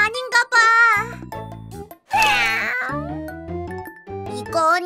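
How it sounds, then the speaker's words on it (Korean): A cat meows repeatedly in drawn-out, wavering cries with short gaps between them, close and fairly loud, and one call rises into a strained yowl. "이건 고양이의 울음소리야."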